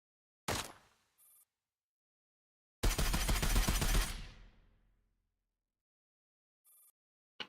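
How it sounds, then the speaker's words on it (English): In the game Girls' Frontline, a single sharp shot, then a rapid burst of automatic gunfire lasting about a second that fades out, with faint electronic beeps between. "Gunfire erupts."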